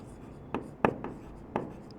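Someone writes on a board during a class 10 maths lesson on measuring angles, making a few short, close scratchy strokes in an irregular rhythm, with no talking over them.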